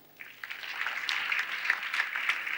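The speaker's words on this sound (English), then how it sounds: "The way you are clapping for him," An audience at a business summit event claps steadily, a dense continuous patter of many hands that builds slightly and stays fairly even, without talk over it.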